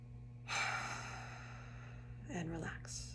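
A deep breath drawn in and then released slowly through the mouth, a long airy exhale close to the microphone, followed by a softer breathy sound over a steady low hum.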